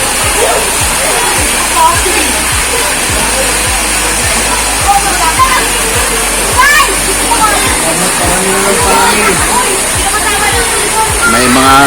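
River water at a diving area in Pansol, Silang, Cavite rushes and splashes loudly and continuously, a dense roar with a steady low repeating thump underneath and faint voices around.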